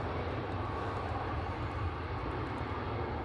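A Ryanair airliner departs Manchester Airport, heard as a steady, broad jet roar that holds at a constant distant loudness, with no talking.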